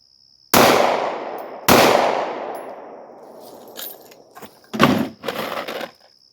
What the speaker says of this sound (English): I'll put a couple of shots here again at 50 yards.